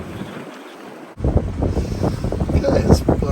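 Strong, gusty wind of over twenty knots buffeting a microphone aboard a sailing yacht in a bay, a loud continuous roar mixed with boat and water noise, with a voice talking over it.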